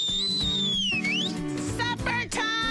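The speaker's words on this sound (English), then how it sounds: "I got a magic whistle." A whistle is blown to call people in for supper at a lakeside fishing cabin, giving loud, sliding high tones over a busy, noisy outdoor background.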